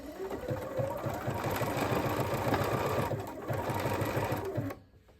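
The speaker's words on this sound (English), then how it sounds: "I drop my needle and then I get going." A sewing machine stitches pieces of a patchwork hoodie together, its needle pumping in a steady, fast rhythm close by for about five seconds before it stops and falls quiet.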